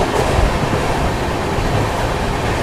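Rani Kamlapati Bhopal Vande Bharat express train rushing past at Dholpur Junction, a loud, steady rumble and roar of passing carriages heard close by from a stopped train.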